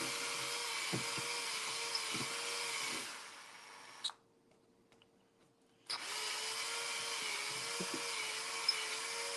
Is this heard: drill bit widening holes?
yes